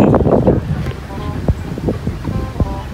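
Strong typhoon wind roars steadily across the microphone during kite flying, buffeting it throughout, with a few faint voices and bumps underneath.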